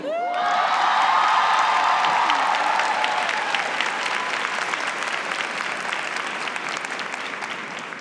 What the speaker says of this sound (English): Please join me in another round of applause for our new Spelman sister.